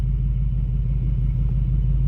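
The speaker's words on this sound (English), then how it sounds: "That's your exhaust note." A 2023 Mercedes-Benz G63 AMG with its V8 gives a deep, steady exhaust rumble at close range, a low throbbing idle lasting about two seconds with no voices.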